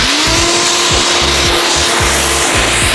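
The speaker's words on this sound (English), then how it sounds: "Corvette cruising. This how you cruise." A black Chevrolet Corvette C8 cruises past, its steady engine drone carrying a rising tone and rhythmic low thumps that repeat every half second or so, loud and close throughout.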